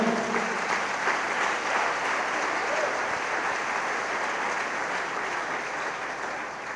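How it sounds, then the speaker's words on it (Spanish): A church congregation applauds steadily during a worship service, a dense wash of clapping that holds level and fades slightly toward the end, with no talk over it. "dale un aplauso fuerte al Señor."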